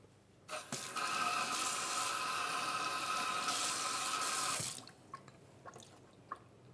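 Calabash gourd washed under a running tap, a close, steady rush of water for about four seconds that stops abruptly, followed by a few faint drips and clinks.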